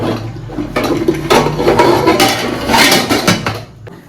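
Metal clatter of a pot lid being lifted off a pot on a gas stove, a run of close clanks and scrapes of cookware spread across the few seconds with no talk.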